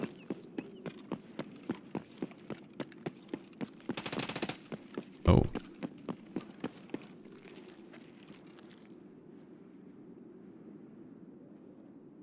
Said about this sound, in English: There are shots back here.